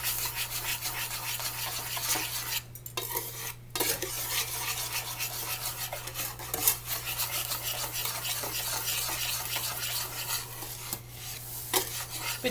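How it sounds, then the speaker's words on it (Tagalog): Steady scraping and stirring of baking soda and baking powder being mixed in a bowl, a continuous gritty rubbing texture with brief pauses, close and moderately loud over a low constant hum. "i-mix lang ng ayos para yung baking soda at yung baking powder mag-mix ng ayos"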